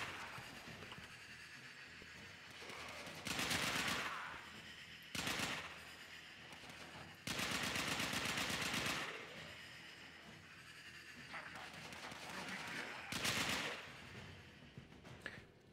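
Automatic gunfire in the video game Warframe sounds in loud bursts of rapid shots, with quieter gaps between volleys, as enemies are shot down.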